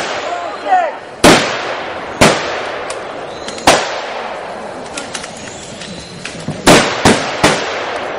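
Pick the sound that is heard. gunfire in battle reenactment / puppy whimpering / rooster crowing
gunfire in battle reenactment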